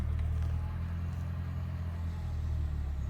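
A low, steady engine rumble from a car idling or rolling in nearby, with no talking.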